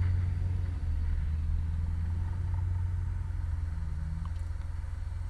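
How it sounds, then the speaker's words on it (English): Vehicles pass outside, giving a low, steady engine rumble and hum that holds throughout with mild swells, heard indoors and somewhat muffled, with no talk. "I'm pausing because there's loud people in vehicles."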